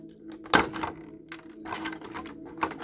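A sharp snip as a tie is cut off action figure packaging for a NECA Elliott and E.T. bicycle figure, followed by faint clicks and rustling of plastic and cardboard close up.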